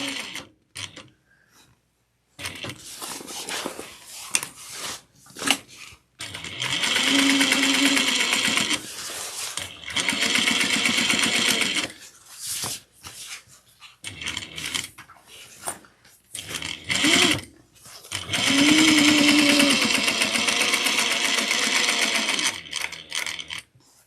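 A sewing machine stitches a tote bag in several loud rhythmic bursts of whirring needle action, separated by short pauses and quiet handling sounds.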